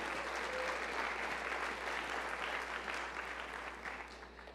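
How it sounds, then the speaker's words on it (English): Audience applause for a group of individuals at a university opening session: dense, even clapping from a crowd, heard at moderate distance and fading gradually toward the end, with no one speaking. "round of applause for all these individuals"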